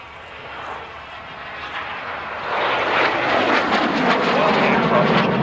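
Aircraft flying at the Duxford Autumn Air Display, a Korean War–era type in period markings, a steady broadband engine roar that swells louder midway and stays strong, with no talk over it.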